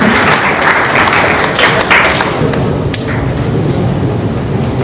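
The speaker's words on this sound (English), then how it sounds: "A very big round of applause for him." Loud audience applause from a large conference crowd fills the whole stretch: dense, steady clapping that holds its level throughout without easing off.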